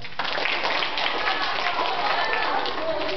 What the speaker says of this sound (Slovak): A poprosím ešte obrovský potlesk pre našich troch zástupcov lesa